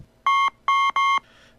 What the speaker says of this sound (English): a beeping came from the display screen